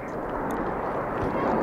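RAF Red Arrows jets flying in formation at the RIAT air show make a loud, continuous roaring rumble that swells slightly toward the end, with a person talking over it.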